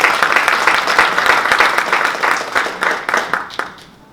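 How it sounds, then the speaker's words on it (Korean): An audience at a special lecture claps loudly to welcome a speaker, dense close applause that gradually thins and fades out toward the end. "큰 박수로 맞이해 주시기 바랍니다"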